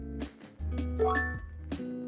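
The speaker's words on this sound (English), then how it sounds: "Oh, my doggy rang the bell." A dog rings a hanging bell indoors to be let outside, giving several bright metallic jingles with ringing tones at uneven intervals, fairly close and clear with no talking.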